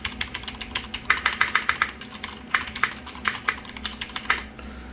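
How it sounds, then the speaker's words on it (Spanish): Rapid bursts of typing on a pink Cherry MX 3.0S RGB mechanical gaming keyboard, with close, crisp key clacks coming in quick irregular runs and short pauses between them. "Recuerden el sonido del teclado."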